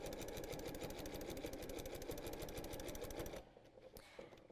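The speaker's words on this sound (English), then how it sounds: "And then we're just going to sew all the way down the edge." Sewing machine stitching down the edge of a quilt-as-you-go tote bag, a fast steady mechanical rattle up close that stops abruptly near the end, leaving a few faint handling clicks.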